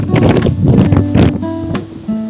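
Gusty wind buffets the microphone on a beach in San Juan, a loud rumbling roar with a few sharp gust spikes and a faint tone near the end.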